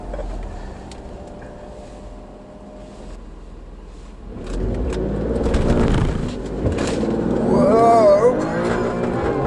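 An Alfa Romeo Stelvio accelerates hard at high speed, its engine note rising from a low interior drone to a louder, climbing roar in the second half, with people talking over it.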